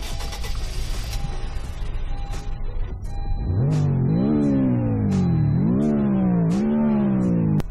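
Revving engine of the SI Coupe car in the Roblox game Greenville, rising through several surging pitch sweeps after a quieter start, loud and close with no talk over it.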